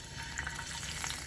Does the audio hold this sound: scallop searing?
yes